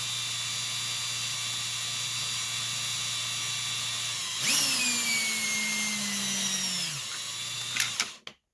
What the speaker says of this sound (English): maybe I should wait till I'm done drilling.